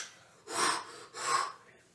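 Someone breathes heavily after a full-body workout, taking two loud, rasping breaths close by with short pauses between them.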